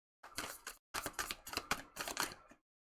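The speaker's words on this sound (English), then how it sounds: "Like, your cards do not want to shuffle at all." Tarot cards being shuffled by hand, a run of quick papery riffling and flapping bursts with a short pause, close and fairly quiet, no talking.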